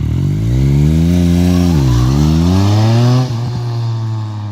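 A Yamaha Tracer 900 GT motorcycle's three-cylinder engine revs up close and loud, rising, dipping and climbing again before dropping back to a steady idle.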